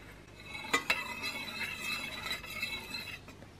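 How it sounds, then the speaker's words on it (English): Metal spoon stirring freshly melted homemade cold cream in a bowl just lifted from a hot pan, with two sharp clinks of metal on metal early on, then a steady soft scraping swirl close by and quiet. "Oh, I really should use a wooden spoon for this, for anyone who doesn't like the sounds of metal upon metal."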